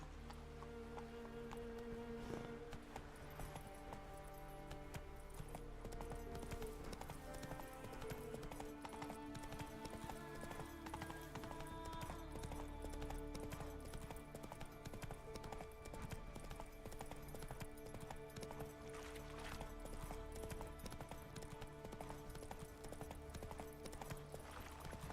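Roach the horse trots in The Witcher 3, a quick steady clip-clop of hooves under a dense bed of game music, even and continuous throughout.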